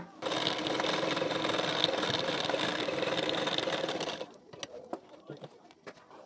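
An electric sewing machine runs steadily for about four seconds while stitching a hook strip onto a blouse, then stops, leaving a few light clicks and handling noises.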